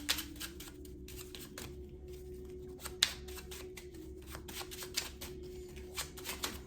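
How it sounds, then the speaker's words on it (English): Tarot cards being shuffled by hand, a quiet run of papery riffles and soft flicks with a few sharper snaps, close and alone over a low steady room hum. "Let's pull some more cards"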